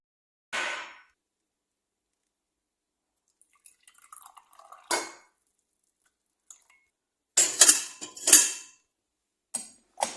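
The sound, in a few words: pouring tea into a glass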